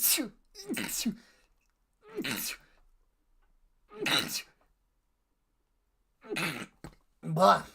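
Five separate sneezes burst out loud and close, spaced irregularly with silent gaps between them, the last ones followed by a short spoken exclamation.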